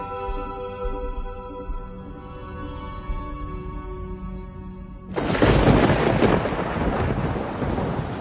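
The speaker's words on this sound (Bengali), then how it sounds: "আজ বিকেল থেকেই প্রবল জোরে ঝড় বৃষ্টি শুরু হয়েছে।" A thunderstorm with heavy rain: a low rumbling roll under steady rain, then a loud thunderclap crashes in and gives way to a dense, heavy downpour.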